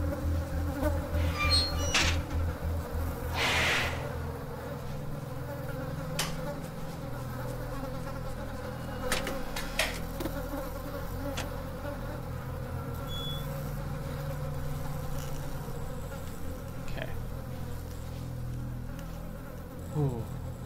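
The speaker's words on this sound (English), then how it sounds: "I don't even know what those buzzers were buzzing for" Steady insect buzzing from the horror video game Oakwood, a droning hum with layered tones running throughout, broken by a few sharp clicks and brief noisy bursts from the game.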